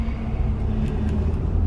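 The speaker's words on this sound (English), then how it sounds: "There's a lot of traffic right now." Road traffic rumbles from inside a car on a chilly city afternoon, a steady low drone of engines and tires close around the cabin with no talking.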